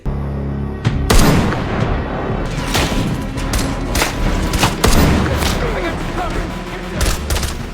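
Dense action-film gunfire and explosions as a guard boat is shot and blows up, with a sustained loud barrage of overlapping shots and booms that fills the whole stretch, near and heavy.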